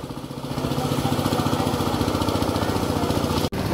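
A tractor engine runs steadily in a farm field during the rainy season, with a rhythmic chugging that grows louder over the first half second and then holds, until a brief sharp dropout near the end.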